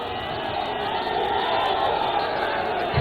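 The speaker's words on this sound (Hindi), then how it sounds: "अलका लांबा जी का भी स्वागत कर दीजिए जरा तालियों से" An outdoor audience in Varanasi applauds and cheers steadily in welcome of Alka Lamba, a dense crowd noise heard from a distance, with voices mixed into the clapping.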